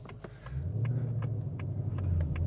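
Steady engine rumble and road noise from a 2025 Ford Mustang Dark Horse with a manual gearbox driving on a B road, heard from inside as a continuous low drone with faint ticking above it.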